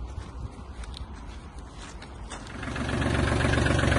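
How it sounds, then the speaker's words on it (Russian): A Kubota GL220 Japanese mini tractor engine chugs at a low idle, then its revs rise into a louder, fuller drone, heard close with no talking. "Трактор работает чисто, мягко, приемисто."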